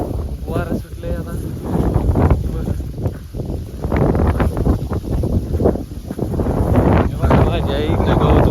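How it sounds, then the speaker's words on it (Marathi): Morning wind gusts across a village farm field where grass is being cut, buffeting the microphone in loud, uneven rumbling bursts while a person talks over it. "वारा सुटलंय आता."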